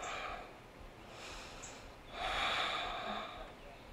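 Deep breathing during a morning vinyasa yoga flow, two slow audible breaths, a softer inhale followed by a longer, fuller exhale, close and quiet with no other sound.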